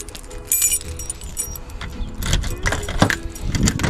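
Keys jangle and clink in short bursts close by as a set is sorted through outdoors, with some road-vehicle rumble and motorcycle-area noise beneath.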